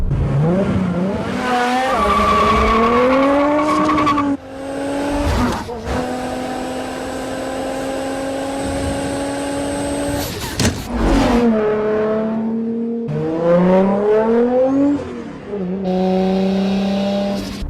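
A heavily modified Toyota Supra engine revs hard, its pitch sweeping up and down repeatedly, then holding a high steady drone before more sharp revs.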